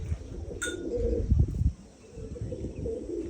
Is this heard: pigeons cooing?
yes